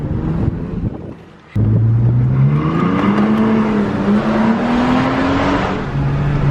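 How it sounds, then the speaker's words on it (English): A Toyota Tacoma with a new high-clearance exhaust does a burnout, the engine snapping to a loud roar after a brief lull and then revving in a long climbing drone before easing off, close to the microphone with wind buffeting. "All right, let's do a little burnout."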